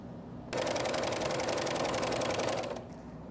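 A sewing machine runs steadily for about two seconds with a fast, even stitching rhythm as bias tape is sewn onto the edge of a fabric diaper insert, then it stops, leaving a quiet room.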